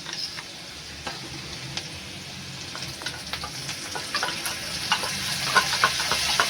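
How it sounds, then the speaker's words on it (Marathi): Spiced yogurt masala with ginger-garlic paste fries in oil for a mushroom dish, giving a steady close sizzle. Scattered clicks of a spoon stirring grow a little louder toward the end. "टाकून व्यवस्थित भाजून घ्या तो मसाला. आता व्यवस्थित भाजायचा. तेल सुटेपर्यंत भाजा."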